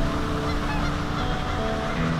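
Geese honking near a rural road, a loud, close flurry of overlapping honks and calls that continues steadily without pause.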